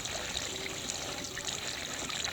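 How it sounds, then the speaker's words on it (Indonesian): Tap water is poured into a car battery cell in a soft, steady trickle, close by and fairly quiet, with a faint hiss and no speech. "Lalu kita masukkan air keran sampai penuh."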